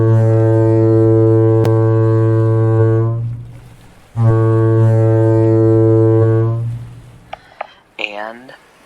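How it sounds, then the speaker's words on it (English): An abandon-ship signal horn blares from a sinking vessel in the Stormworks video game as the engine cuts out, two long loud deep blasts separated by a brief gap, followed by faint scattered clanks. "So we signal abandoned ship as the engine cuts out."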